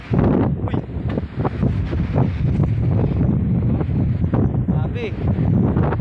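Strong wind roars and buffets the microphone continuously, with gusty rumbling and rustling throughout; a voice can be heard faintly in the mix.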